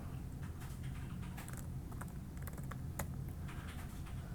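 Typing on a computer keyboard in a Windows setting, a quick, irregular patter of soft key clicks that carries on steadily at close range with no talk.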